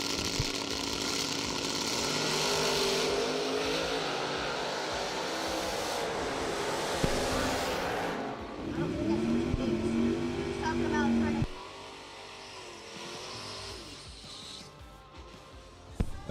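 A wild drag race car at the SFG Christmas Bracket Bash roars loudly down the strip against a Chevy II, a sustained engine howl with pitch sweeps and crowd noise beneath, while a voice talks over it.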